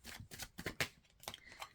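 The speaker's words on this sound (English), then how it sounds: "let's shuffle again" Tarot cards being shuffled in the hands, a handful of quick papery riffling bursts with brief pauses between them, close and fairly quiet, with no talking.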